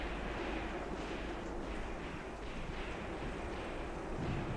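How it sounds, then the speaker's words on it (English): Mortar shells land in the Kharkov 1941 scenario of the wargame Graviteam Tactics, heard as a dense, continuous rumble of distant explosions and battle noise with no clear separate impacts. "Would wish for some more mortars to land."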